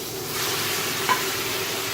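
Squid sautéing in a pan with cooked tomatoes gives off a steady, close sizzle with light stirring, and one brief clink near the middle.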